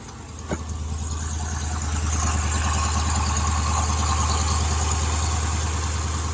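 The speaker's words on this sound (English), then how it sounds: "started right up and it's idling down" A 2015 Dodge Challenger 392 V8 idles steadily after its first startup, with a low, even rumble, a brief sharp click near the start, then a slightly louder settled hum.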